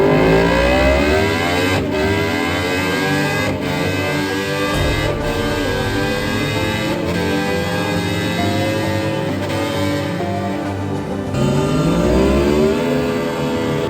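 A 2023 Yamaha R1 sport motorcycle engine revs hard on a dyno, a loud continuous high-pitched scream with rising and falling harmonic sweeps and brief shifts in pitch, close and sustained throughout.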